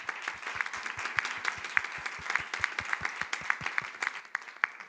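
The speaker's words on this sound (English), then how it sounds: "Round of applause for our panelists," Steady applause from a conference audience for a panel, many hands clapping at once in a dense, continuous patter with some sharper individual claps standing out.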